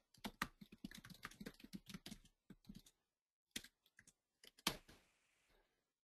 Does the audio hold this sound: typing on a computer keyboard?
yes